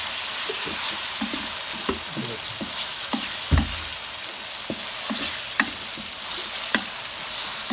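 Garlic-ginger paste fries with a steady sizzle, intermittent scraping and stirring clicks from a spoon against the pan, close and continuous, no talking.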